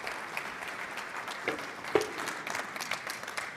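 Audience applause at a cloud networking tech conference, a steady wash of clapping from a seated crowd, moderately distant and unbroken for a few seconds.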